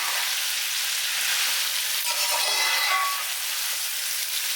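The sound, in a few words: stirring chicken fry pieces in a pan for biryani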